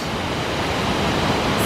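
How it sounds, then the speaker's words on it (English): A small mountain waterfall in the Sierra Nevada pours with a steady, dense roar of rushing water, close and loud, unbroken throughout, with no voices. "There's a nice little waterfall we came across."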